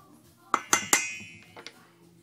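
A spoon clinks against a bowl while baking soda is mixed into flour for maida ghee biscuits, several sharp bright taps in quick succession followed by two softer clinks, close and alone in a quiet room.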